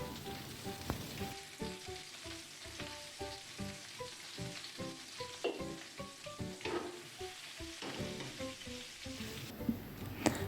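Village-style potatoes frying in a pan, with a steady sizzle broken by repeated clinks and scrapes as they are stirred and spread. The sound is close and constant, with no talking.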